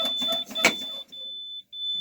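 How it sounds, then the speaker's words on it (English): A Maryland Class B school bus air brake low-pressure warning buzzer sounds as a steady, piercing high tone, briefly interrupted once, following a short burst of cab noise. "my low pressure warning lights and buzzers come on"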